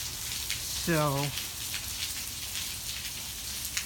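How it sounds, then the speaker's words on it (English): Steady rain pours down through a thunderstorm, a dense even hiss close by, broken once near the start by a short falling whine from a dog, with a brief spoken word. "The rain's kind of interrupting her afternoon beauty nap."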